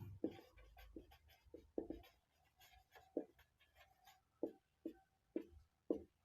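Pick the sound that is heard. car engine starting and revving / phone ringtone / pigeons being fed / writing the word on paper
writing the word on paper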